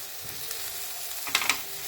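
Spring onions sauté in a pan with turmeric, giving a soft, steady sizzle broken by a couple of sharp scraping clicks from stirring near the end.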